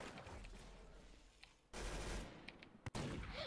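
Springfield rifle shots in Roblox Arsenal crack out sharply, with a burst of fire in the middle and a quick further shot near the end over low game noise.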